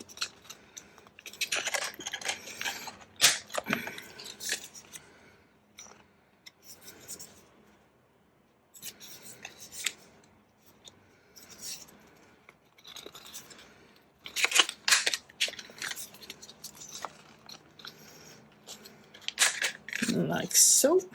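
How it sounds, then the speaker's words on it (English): Paper corners are trimmed round with a handheld corner cutter: sharp clicking snips and rustling paper arrive in separate bursts between pauses, close by, with quiet talk in places. "I'm going to trim the corners with a corner cutter just to give us a nice rounded"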